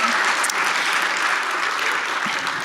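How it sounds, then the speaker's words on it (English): Steady, continuous applause from a conference audience at a React Native talk, many hands clapping in a dense, even wash throughout. "Applause, potentially."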